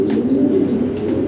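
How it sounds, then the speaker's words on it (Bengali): Low, steady cooing from a pigeon kept for sale, a continuous murmuring coo filling the short stretch with no voices over it. "খুব ফার্স্ট ক্লাস কবুতর এটা"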